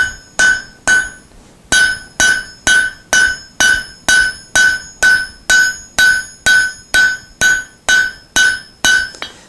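Hot steel being hammered on an anvil while forging a folded rasp axe: a steady series of about eighteen sharp, ringing metallic blows at an even rhythm after a short pause, loud and close with no talking.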